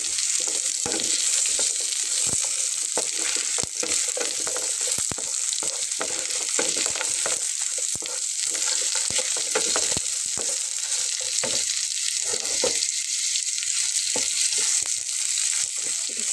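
Onions and ginger frying in a pan, a loud, steady sizzle with frequent crackles and spatula scrapes throughout, no talking.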